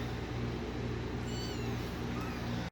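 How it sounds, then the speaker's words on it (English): Kittens meow in short, rising calls over a steady low hum, several mews spread across a couple of seconds. "I have to feed these kittens"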